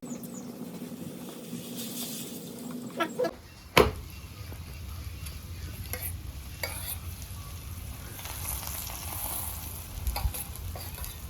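Aloo paratha of potato, onion and wheat flour sizzling in oil on a hot tava, a steady fine frying hiss running throughout with a sharp clatter near the start.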